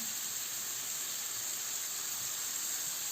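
Mushrooms sauté in a pan with a faint, even hiss that stays steady throughout and has no distinct pops, and no one speaks.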